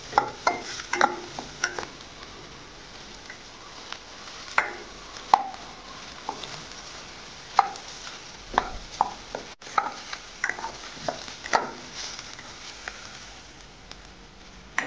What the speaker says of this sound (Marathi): यालाही आपण छान परतून घेणार आहोत कांद्यासोबत